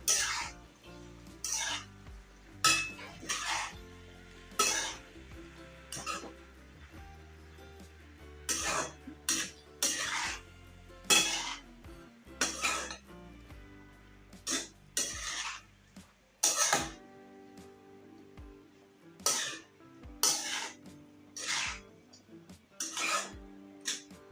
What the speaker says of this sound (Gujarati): તો હવે આપણે પૌવાને સરસ રીતના મિક્સ કરી લેશું